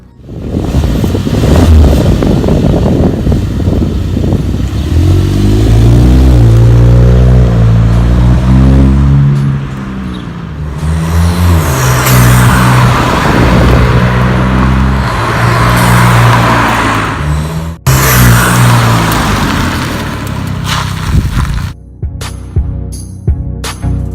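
Revving VW MK7 Golf fitted with a 3-inch straight-pipe Magnaflow exhaust, loud and close, with repeated rising and falling engine pulls and a brief cut near the end before short blips.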